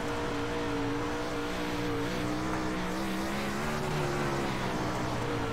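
A 360 sprint race car at Weedsport, running a gear that is too low, drones loudly and steadily as its engine bogs, the pitch wavering slightly without climbing into a clean rev.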